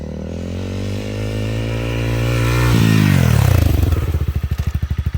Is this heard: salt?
no